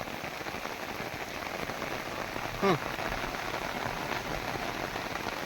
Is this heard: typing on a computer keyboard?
no